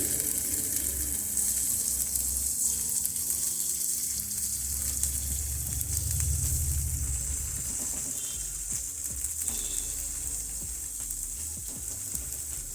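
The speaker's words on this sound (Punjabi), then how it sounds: "ਹੁਣ ਅਸੀਂ ਆਲੂ ਨੂੰ ਬਰੀਕ ਬਰੀਕ ਕਰਕੇ ਪਾ ਦਵਾਂਗੇ ਤੜਕੇ ਦੇ ਵਿੱਚ" Finely chopped potatoes sizzle in hot spice tempering for dosa, a continuous loud frying hiss with occasional stirring scrapes and no voices.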